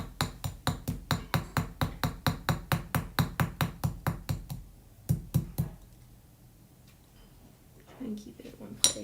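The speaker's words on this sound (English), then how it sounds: "Now I'm gonna take my hammer, we're gonna round this out." Metal hammer taps steadily on a riveted bracelet being rounded out, roughly twenty quick even strikes in a row, then a pause, a few more blows and some faint handling noise close by.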